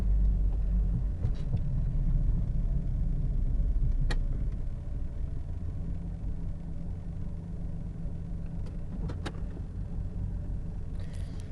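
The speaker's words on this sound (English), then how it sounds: "it spits and sputters and goes on" A Jeep Grand Cherokee engine idling roughly with a low, continuous rumble, heard close and steady, broken by a few sharp ticks and faint mechanical clicks.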